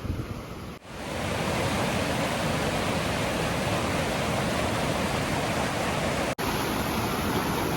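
Steady rushing water of Landslide Creek on a backpacking trip, a broad continuous roar heard close by with no pauses, briefly interrupted near the start and end.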